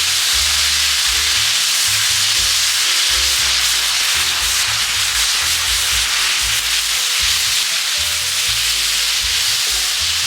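Soaked glass noodles being stirred and tossed in a hot frying pan for japchae, a steady close scraping and sizzling rustle with no pauses and no voices.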